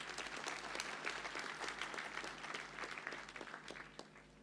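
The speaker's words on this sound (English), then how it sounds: "please let us give them another round of applause" A graduation audience at Strathmore University gives the university chorale a round of applause, a steady crowd clapping heard at moderate distance and tapering off toward the end.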